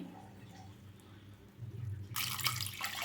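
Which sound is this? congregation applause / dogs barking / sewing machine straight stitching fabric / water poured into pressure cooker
water poured into pressure cooker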